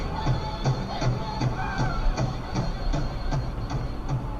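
Wampanoag native music with a steady, evenly spaced drumbeat, roughly three beats per second, over a dense crowd-like background of voices and shuffling, moderately loud throughout.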